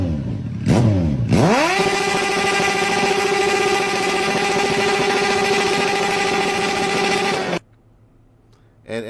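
A motorcycle cranks and fires up, its engine rising into a loud, steady buzzing idle that holds for several seconds before cutting off abruptly, close and alone.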